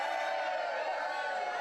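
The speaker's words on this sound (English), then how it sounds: "We need better applause than that." An evening show audience claps and cheers as a steady, even wash of crowd noise for a brief moment, with no distinct voices standing out.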